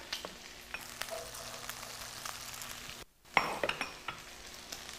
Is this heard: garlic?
yes